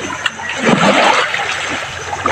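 Sea water splashes and churns at a seashore, a close, loud rush with bursts of spray and gurgling over a few seconds.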